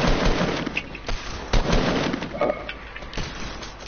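Rapid Fortnite gunfire crackles in repeated sharp shots and bursts, loud and close, with a few heavier impacts mixed into the steady barrage.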